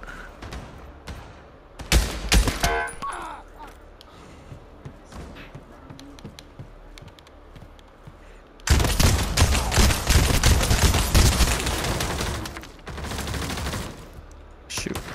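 Bursts of gunfire from a gun in the Pavlov VR shooter on PSVR2: a short burst around two seconds, then a long, loud, sustained stretch of rapid automatic fire running almost to the end.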